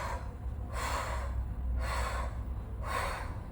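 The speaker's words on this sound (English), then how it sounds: "Now breathing pattern will be blow out." Forceful breathing during a cardio exercise for diastasis recti, with three strong, evenly spaced exhalations blown out close to the microphone.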